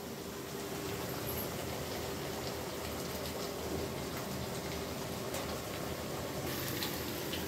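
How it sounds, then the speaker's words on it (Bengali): Potato and soybean curry sautéing in a pan, giving a continuous dense close sizzle and bubbling hiss at a steady level, no voices. "এখন আমি কষাচ্ছি।"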